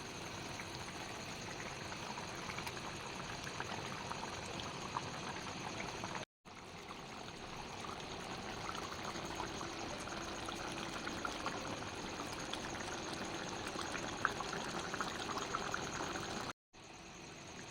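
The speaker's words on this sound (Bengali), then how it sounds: "কি সুন্দর ঝোলটা ফুটে গেছে" Curry gravy for sesame tilapia fish curry boiling in a pot, with fried tilapia pieces added, giving a steady, moderately quiet bubbling and simmering hiss that runs continuously with two brief gaps.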